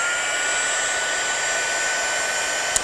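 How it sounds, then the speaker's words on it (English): A heat gun blows a constant loud, breathy whoosh with a faint high whine as it melts embossing powder over pigment ink, steady and uninterrupted at close range. "Now, when you're using your heat gun with embossing powder and you've used a pigment ink, keep it still."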